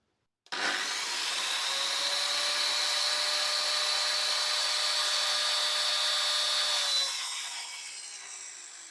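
A circular saw spins up and runs steadily with a loud high whine, then winds down over the last couple of seconds.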